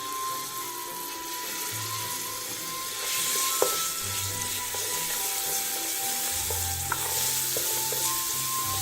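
Homemade seasoning sizzles steadily in a frying pan as it browns, a continuous close crackle with occasional stirring scrapes and soft clinks, no talking.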